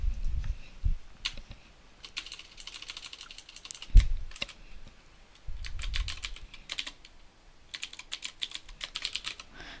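Bursts of quick clicking keystrokes on a computer keyboard while entering a feature name in GIS software, with short pauses and a few heavier thumps between runs of typing.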